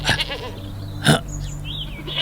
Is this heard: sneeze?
no